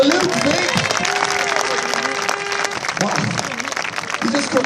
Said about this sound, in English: Round of applause for Luke Fink.